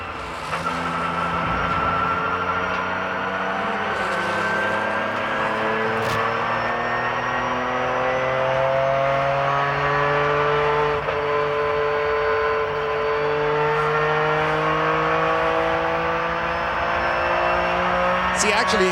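An ALMS sports prototype race car at Road America, powering out of a slow corner with a rising, sustained engine note as it builds speed, heard through a broadcast mix with commentators talking over it.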